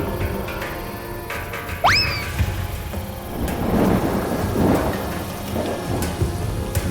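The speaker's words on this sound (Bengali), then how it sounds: "বাইরে তো দেখছি বৃষ্টি শুরু হয়ে গেল।" Steady rain pours outside in a cartoon storm as thunder rolls low and builds, with a rising whistling swoop near the start.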